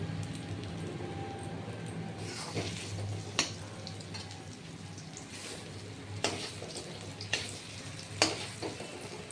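Lentil fritters fry quietly in a pan with a soft, continuous sizzle. A few sharp clinks and taps of utensils break in now and then.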